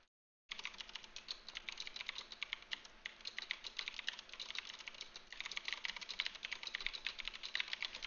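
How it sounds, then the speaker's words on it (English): Rapid, loud clatter of a noisy computer keyboard typed on continuously at close range, a dense stream of sharp key presses with no talk. "Do you like my annoying keyboard?"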